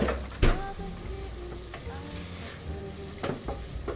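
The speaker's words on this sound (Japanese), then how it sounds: "ケチャップちょっと焼きます" Ketchup frying in a pan for Napolitan pasta, a loud close sizzle with stirring scrapes and a couple of sharper clatters of the utensil.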